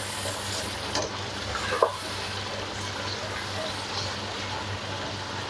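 Spinach and meat for palak gosht sizzle and fry in ghee, a steady soft hiss with a couple of stirring clinks, no voices.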